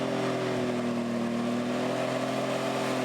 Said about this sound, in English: the tractor is running really well at the moment